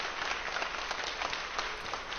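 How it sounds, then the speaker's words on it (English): People clap in a steady, moderately loud burst after rocket booster separation during China's Mengtian space station module launch, an even wash of applause lasting a couple of seconds. "Everyone clapping naturally."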